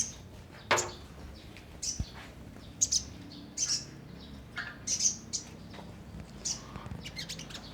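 Sogon birds in a colony call back with short, sharp chirps and squeaky tweets, scattered irregularly at moderate distance over a faint background hum.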